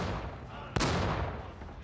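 Tank cannon fires once in the War Thunder video game, a single sharp, loud blast midway that decays into a rumbling tail over steady engine and background noise.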